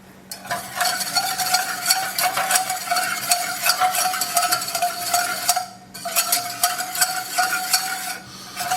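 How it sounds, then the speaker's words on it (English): Milk goes into a hot roux a little at a time for a French Mornay cheese sauce, with brisk, continuous stirring against the pan over a bright sizzle, close and fairly loud, with one brief pause partway through. "Next, we're going to add our milk a bit at a time."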